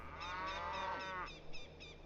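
Cattle lowing in Age of Empires II, a single drawn-out moo rising and sliding down, then shorter grunting calls, close and clear over a faint game background.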